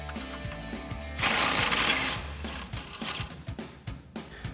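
Impact wrench fitted with a 24mm socket spins a strut mounting bolt nut off a RAM 1500 front lower control arm: a loud, harsh, rattling burst of about a second, then lighter mechanical clicks and clanks close by.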